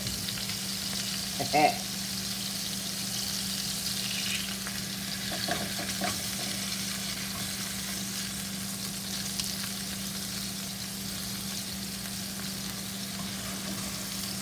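Shrimp burgers sizzle steadily in a hot pan, with a few brief scraping knocks as a spatula flips them partway through, the frying hiss continuing evenly throughout.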